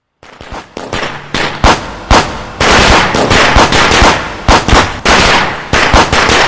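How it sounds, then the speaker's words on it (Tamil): Rapid, loud strings of firecracker bangs crackling and popping in dense bursts, booming and echoing as if in an enclosed space. "டேய் வாசுடா, டேய் எவ்வளவு பட்டாசுக்கு உள்ள போட்டடா இருக்குடா."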